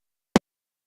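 One short, dry snare drum hit, crisp and punchy, sounding alone against complete silence.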